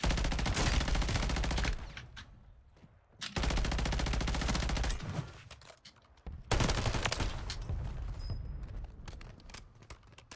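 Rapid automatic gunfire in Call of Duty Warzone, loud, close bursts of several seconds each separated by short pauses, with a final long volley and no talking.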